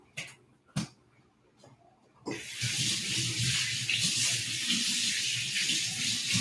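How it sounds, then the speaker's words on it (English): Tap water runs steadily into a sink as hands are washed in a home kitchen, a broad hiss starting after a few soft knocks and continuing evenly, close and moderately loud, with no talk. "wash my hands"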